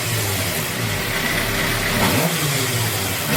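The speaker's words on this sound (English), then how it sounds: "I'll crack this throttle." A 2008 Suzuki GSX-R 750 motorcycle engine runs close by at a steady idle, then the throttle is cracked for a brief rise in revs before it settles back down.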